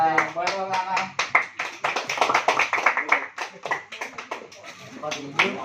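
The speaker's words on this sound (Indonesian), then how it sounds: "Boleh tepuk tangan." Applause from a school audience at an awareness talk on online game addiction, many hands clapping in dense, uneven bursts across the whole stretch, fairly close, with voices mixed in underneath.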